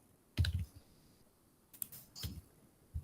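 Code being typed on a computer keyboard, a few separate bursts of clicking keys with short pauses between them, close and fairly quiet against a low background.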